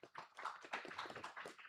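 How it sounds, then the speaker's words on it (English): Seminar audience in a Chennai hotel hall applauding a speaker, a quick burst of many hands clapping at moderate volume, dense and steady throughout with no voices over it. "Please let's give her a round of applause."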